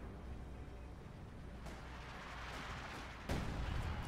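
Artillery shells land and explode in the World War II strategy game Company of Heroes 2, a steady rumbling barrage with a sharper, louder blast near the end, no talking over it.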